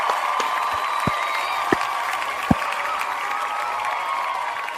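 Clapping from a small studio audience, a few scattered sharp claps standing out over a steady room hum, fairly faint and thin rather than a big roar of applause.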